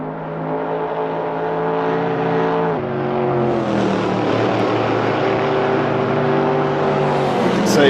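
Race cars, Corvettes and a McLaren, in a sim racing video game, with a steady, loud engine drone whose pitch climbs and shifts under acceleration and gear changes, several cars blending close together.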